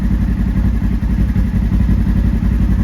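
A turbocharged Polaris General XP UTV's aftermarket exhaust burbles steadily at idle, deep and loud, with a low, rhythmic throb, close by and continuous.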